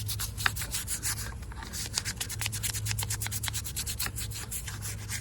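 A greasy intake manifold is scrubbed in quick, even back-and-forth strokes, a close, dry rasping rhythm that runs without pause and with no voices.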